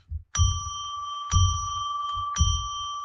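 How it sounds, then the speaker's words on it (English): A ritual bell struck three times at a steady pace, each clear ringing tone sustaining into the next over a soft low rumble, close and moderately loud. "we do that by ringing a bell 3 times to declare a sacred space"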